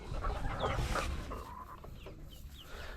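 Chickens clucking close by, soft overlapping calls from a small flock over a low rustling farmyard background.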